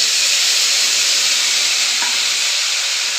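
Cumin seeds, bay leaf and ginger-chili paste frying in hot oil, a loud, dense, continuous hiss and sizzle held steady throughout, close up with no voices.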